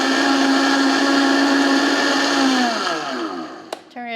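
A Vitamix 5200 blender whirs loudly at close range with soap and water inside, a steady high motor whine that winds down near the end, followed by a brief clack.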